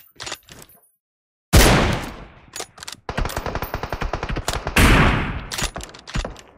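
Close, loud automatic gunfire in the mobile game PUBG Mobile, with rapid bursts that stop and start, a short silence early on, and a long rattling stretch near the end.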